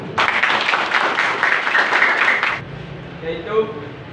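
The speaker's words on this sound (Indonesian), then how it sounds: "Tepuk tangan." A classroom group claps together in a short, busy burst for about two and a half seconds, then it cuts off abruptly and a voice begins speaking over a quieter background.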